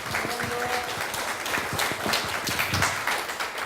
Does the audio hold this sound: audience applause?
yes